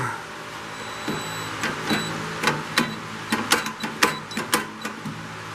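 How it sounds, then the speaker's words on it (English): A pneumatic impact gun working at a tight bolt on a small engine during a pull-start cable and coil repair, giving repeated rapid hammering bursts that grow more intense toward the end. "instead of using the gun, you might have to have like a heavier impact gun"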